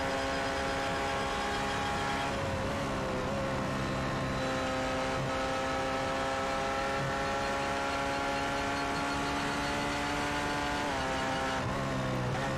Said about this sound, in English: Now if we go over and take a listen to one of the Porsches, it's a very different sound in this car.